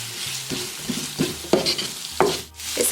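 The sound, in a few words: sautéing onions in a pan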